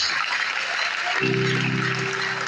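A congregation at a church service applauds: dense, steady clapping from many hands fills the room from start to finish, and partway through a sustained organ or keyboard chord enters beneath it.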